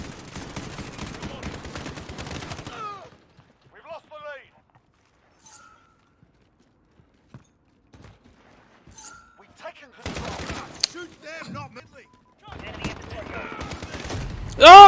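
Gunfire in the multiplayer video game Call of Duty Modern Warfare 2019, quick bursts of automatic shots that come and go across long quiet gaps, with a loud burst at the very end.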